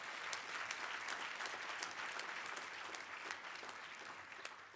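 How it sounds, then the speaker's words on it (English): Audience at an Urban League annual dinner giving a big round of applause, dense clapping from many people in a large room, steady and unbroken, with occasional sharper individual claps standing out. "Give him a big round of applause."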